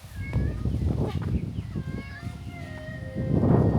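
Cat meowing on a mountain hiking trail in South Korea, a few short mews heard near, with people talking and chattering around it.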